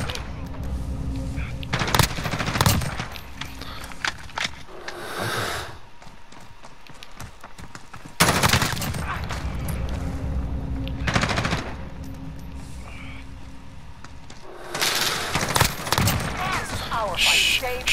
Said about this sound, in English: Try and practice burst firing as well.